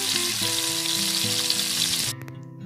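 Potato and cauliflower curry sizzles and fries loudly in a pan, a dense steady crackle with occasional clinks, cut off abruptly near the end to leave faint quiet.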